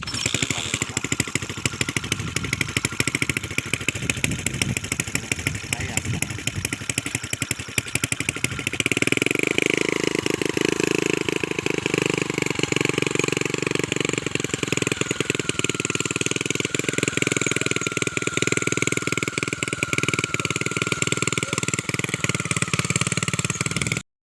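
A homemade power weeder driven by a motorcycle engine runs for the whole stretch, a steady close mechanical drone whose tone shifts partway through and then settles into an even, sustained hum, with no talk.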